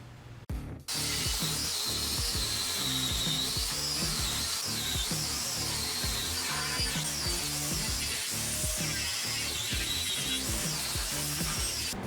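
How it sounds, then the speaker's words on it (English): An angle grinder fitted with a flap wheel smooths welds on a metal frame being readied for powder coat, a loud continuous whirring grind with rhythmic pulsing as the wheel works the metal, no speech. "I'm gonna smooth some out with the flappy wheel."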